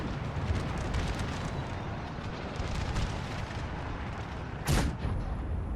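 Howitzer artillery fire, including a 5-inch howitzer, in the Napoleonic battle game Napoleon Total War: a dense roll of booming cannon fire throughout, with one loud, sharp blast standing out near the end.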